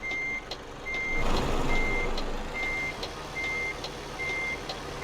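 Steady reversing beeps from a truck backing into a parking spot in Euro Truck Simulator 2, repeating at an even pace over a constant engine rumble, with no talk.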